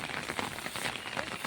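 Rain falls steadily outdoors as a soft, even patter and hiss, fairly quiet and unbroken, with no talking.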